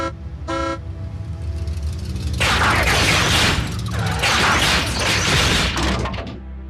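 A car horn honks in the Transformers Prime cartoon: one short blare near the start, then a louder burst of busy mechanical and vehicle noise that fills the rest.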